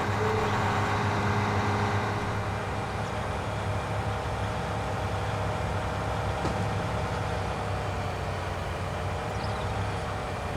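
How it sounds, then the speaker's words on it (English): Large farm machinery in Farming Simulator 19 driving along a road, a steady, loud, low engine drone that holds constant throughout with no pauses. "Big machinery coming on down the road."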